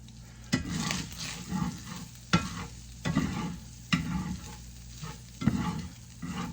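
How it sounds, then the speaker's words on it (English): Sausage sizzles in a pan on a stove top, with a utensil stirring and scraping it in repeated strokes about every second, close and clear over the steady frying. "Just chop it up, stir it up until it's a lot of the fat is kind of rendered out in your pan"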